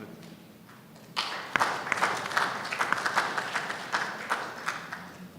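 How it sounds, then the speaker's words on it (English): Delegates at a parliamentary forum plenary assembly applaud a committee chairperson, the clapping starting abruptly after a quiet moment and continuing as a moderately loud, uneven patter of many hands with a few sharper claps. "we owe him a round of applause for the good work that he did for this committee"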